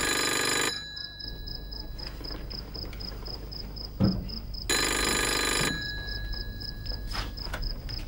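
A telephone rings in two loud bursts with a pause between them, in a quiet room with faint background sound.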